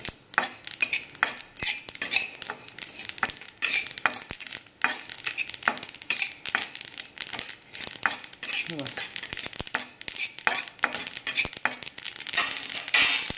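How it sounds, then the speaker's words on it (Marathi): A spoon scrapes and clinks against a pan while food is dry-roasted, giving rapid irregular stirring knocks and light rattling over a faint sizzle, with a voice speaking softly now and then. "असं भाजायचं"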